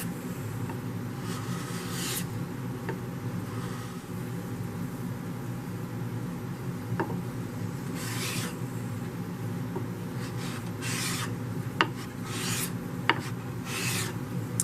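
Sandpaper rubs by hand along the octagonal facets of wooden nunchucks in slow, separate strokes, close and moderately loud over a steady background hum, with a few faint knocks between passes and no talking.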